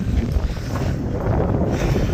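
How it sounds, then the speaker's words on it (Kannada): Strong gusty wind buffets the microphone on the rocky hilltop of Mandaragiri, a steady loud low roar that churns throughout with no voices. "ಗಾಳಿ ಸಕ್ಕದಾಗಿ ಬರ್ತಿದೆ"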